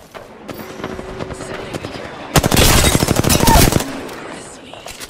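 Gunfire rings out in an Apex Legends Arenas match, a few scattered shots followed by a dense, loud automatic burst lasting over a second, then fading to quieter game noise.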